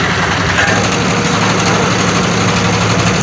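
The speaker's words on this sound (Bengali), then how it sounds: "ওই পাটটা যে ট্রলারটা আমার সাথে ক্রস করতেছে" A steady, loud diesel rumble of a trawler boat engine carries across the Sugandha River, droning evenly without a break under constant broadband noise.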